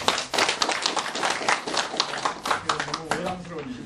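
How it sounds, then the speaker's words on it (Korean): Audience at a Confucian academy restoration ceremony in Korea claps in a quick patter of hand claps over a few seconds, with a voice talking over parts of it. "여러분 박수로 한번."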